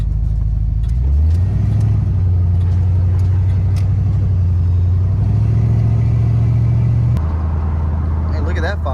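A Ford Mustang Foxbody's engine rumbles loudly and close by with a low, steady drone that shifts in pitch as it moves, heard under a person talking.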